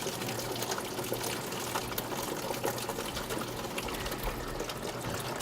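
Water drains from the barrels of a Stoelting 0231 custard soft-serve machine during cleaning, a faint, steady gushing and trickling with faint mechanical hum, no talking.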